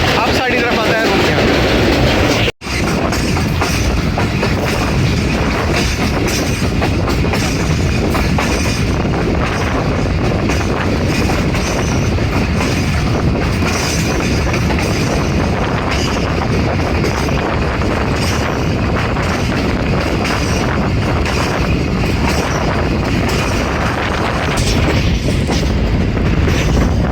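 The Khyber Mail passenger train running through Pakistan, a loud continuous rumble and clatter of wheels on track heard from on board, with a brief dropout near the start, steady throughout.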